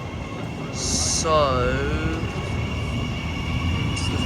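Train pulling out of Broadmeadow station in Newcastle, a steady low rumble with a brief whistle-like tonal sweep and hissing bursts, heard from the platform as a voice speaks briefly.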